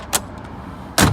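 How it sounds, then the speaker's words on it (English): A red 1965 Chevrolet Corvette's door opens with a short latch click, then after a pause swings shut with a louder, solid thunk, close by and with no talk. "let's open and close that door"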